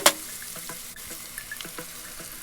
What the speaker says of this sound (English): Then pour about 1/3 of bowl of water into the pan and stir them together.